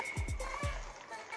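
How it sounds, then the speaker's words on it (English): Hot water splashes into a small foot tub for a home spa soak, with a few quick splashing gulps early on, then a softer trickle fading out, faint and close. "I'm going to go ahead and add some hot water."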